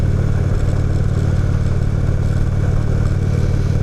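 A 2016 Indian Roadmaster motorcycle cruising on the road, its engine a loud, steady low rumble with constant wind and road noise throughout and no talk.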